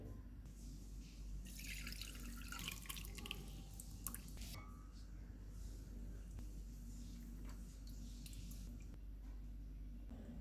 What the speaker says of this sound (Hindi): अब हम यखनी को छान लेते हैं।